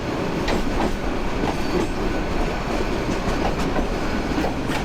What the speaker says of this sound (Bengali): এটা খুব সম্ভবত যমুনা আসতেছে তারাকান্দি থেকে